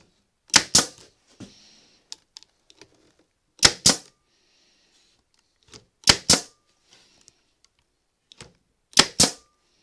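Pneumatic pin nailer firing brads into wood trim for a rabbit hutch build, with an air compressor running in a basement; sharp paired snaps come in clusters about every three seconds, with quiet gaps between them.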